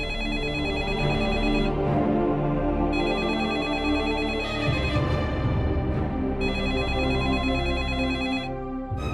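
Phone ringtone ringing unanswered, a repeating electronic melody in regular bursts with short gaps, clear and close, continuing without pickup.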